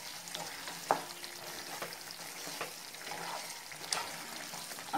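Chicken changezi being stirred in a hot pan, with a soft, steady sizzle and frying crackle and a few sharper scrapes of the spoon, fairly quiet and with no talking.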